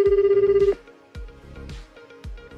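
A telephone rings with an incoming call: one long, steady electronic ring tone, then three shorter ringing bursts that each fade quickly, clear and close with no voices.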